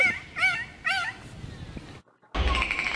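High-pitched whistling calls from a bottlenose dolphin in water, three wavering rising-and-falling whistles in quick succession, then a brief silence and a burst of noisy chatter.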